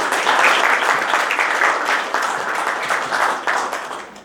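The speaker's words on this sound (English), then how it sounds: "A round of applause." Sustained applause fills the room at an app launch event as a speaker is called on stage, steady dense clapping that holds loud throughout before easing slightly at the end, with no talk over it.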